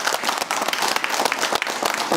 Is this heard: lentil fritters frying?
no